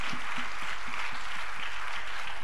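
A church convention audience applauds loudly in a continuous, steady wash of clapping that fills the whole moment, with no voices rising above it.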